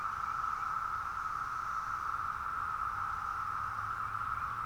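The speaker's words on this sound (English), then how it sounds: "I don't remember ever hearing cicadas that sound like this or look exactly like this before." Brood X periodical cicadas in a dense chorus, a continuous, even, high buzzing drone that holds steady throughout over faint background hiss, with no talking.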